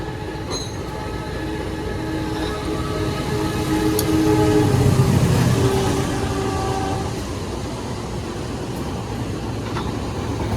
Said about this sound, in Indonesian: Dari sana ada kereta api Bangunkarta sepertinya teman-teman.